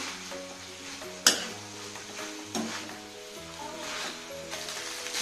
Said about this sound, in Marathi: आणि नूडल्स ऍड केल्यानंतर पूर्ण हे हलवून घ्यायचं।